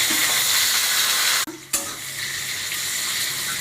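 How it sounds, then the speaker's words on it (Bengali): Fried potatoes go into a pan of hot oil with bay leaf for a potato and pointed gourd curry, giving a loud close sizzle, a brief dip as they drop in, then continuous hissing as they are stirred. "আমার ভাজা হয়ে গেছে, আর ভাজা আলুগুলো আমি ঢেলে দিলাম।"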